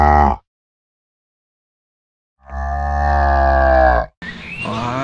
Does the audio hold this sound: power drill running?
no